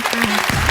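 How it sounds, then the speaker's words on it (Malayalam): Comedy show audience applauding after a skit, a short burst of clapping with some crowd noise and a voice over it. "കൈയടി ഉഷാറാവട്ടെ"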